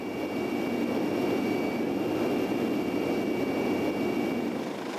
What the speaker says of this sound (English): The closer the helicopter comes to the ground when landing